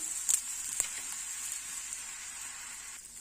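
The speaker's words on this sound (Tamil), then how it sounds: "இப்போ இதுக்கு கொஞ்சம் ஆயில் போட்டு திருப்பி விட்டுக்கலாம்." Soft, steady sizzle of a carrot-coconut poli frying in oil on a pan, a faint continuous crackle with a few small pops near the start and no talking.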